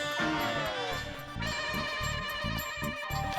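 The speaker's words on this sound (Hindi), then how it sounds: "आता मेहता साहब को फोन करता हूँ" A telephone rings with a repeating electronic ringtone pattern while a call is placed at home, steady pulses at moderate level with faint voice-like sounds underneath.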